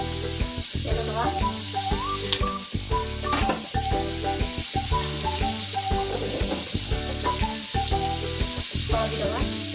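Potatoes frying in hot oil for an Odia cabbage-potato curry (kobi alu rasa), a steady close sizzle running beneath continuous background music.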